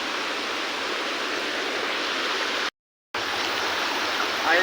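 A mountain stream rushes steadily on a hillside, a dense broadband wash of flowing water heard up close and loud, briefly cut to silence near the end before resuming unchanged.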